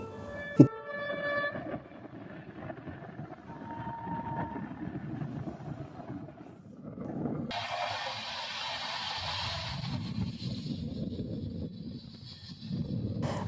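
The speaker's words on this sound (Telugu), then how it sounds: "ఒక ట్రైన్కు ఇంకో ట్రైన్కి పోటీ పడితే ఎట్లా ఉంటుందో ఒకసారి మీరు చూడండి." A train rumbles past with a low, steady roar, its horn sounding briefly early on, the noise shifting as carriages roll by, on the Warangal to Mancherial line in Telangana.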